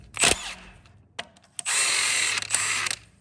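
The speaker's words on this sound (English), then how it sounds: "We'll try the baby impact first." A small impact driver works at a bolt on a Yamaha Kodiak ATV engine, with a sharp clack followed by short blips and then a sustained loud buzzing, hammering whir, close and without speech.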